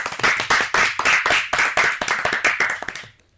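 Loud, brisk clapping from a group of children, dense and steady for about three seconds before stopping abruptly into near silence.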